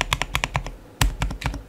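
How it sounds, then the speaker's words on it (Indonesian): Typing on a mechanical keyboard with an acrylic case, a rapid run of deep, close keystrokes with one heavier thock midway, no voices. "Untuk suaranya juga mirip-mirip sama keyboard akrilik pada umumnya"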